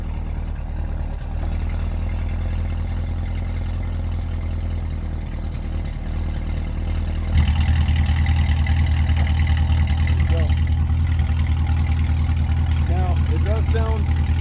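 A Corvette C7 Z06 V8 engine with 2-inch headers and no catalytic converters rumbles at idle, then steps up louder and harsher with raw, unmuffled exhaust, occasional revs rising over the steady roar.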